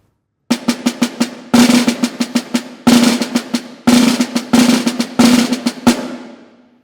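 Snare drum rolls played incorrectly, with a heavy accent on the first note of each roll, come as five short bursts of rapid, buzzing strokes separated by brief gaps, loud and close, with no talk.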